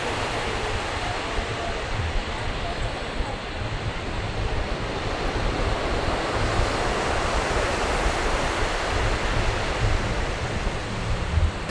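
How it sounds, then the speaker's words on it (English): Ocean surf washes steadily onto Coco Beach in Costa Rica, a broad, constant hiss and roar of breaking waves with soft low rumbles and no talking. "So this is Coco Beach."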